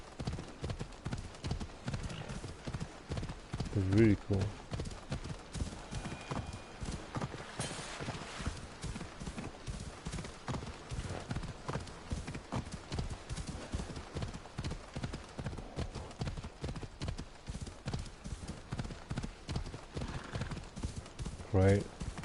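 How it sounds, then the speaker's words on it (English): Horse hooves clip-clop steadily across wet sand in the video game Assassin's Creed Odyssey, a continuous close rhythm of soft thuds with brief whinnies, while a person talks over the gallop. "The sound of the horse in the sand"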